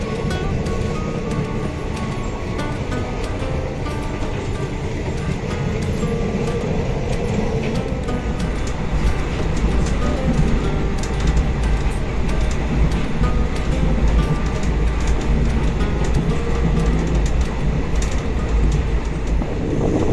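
A local passenger train in Kashmir runs toward Banihal from the Pahalgam side, its steady rumble and rail noise filling all twenty seconds with no talk, swelling slightly louder partway through.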